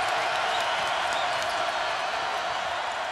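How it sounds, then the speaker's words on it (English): A home crowd of Missouri Tigers basketball fans roars steadily during a tied game against Arkansas, a continuous broad arena din with no breaks, heard from a distance under faint commentary. "the Tiger crowd making some noise"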